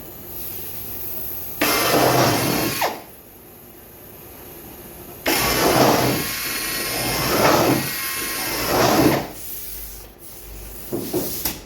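A drill bores rivet holes around the gunwale of a Sportspal canoe in several separate bursts, each a few seconds long, close and fairly loud, with quieter handling noise between them.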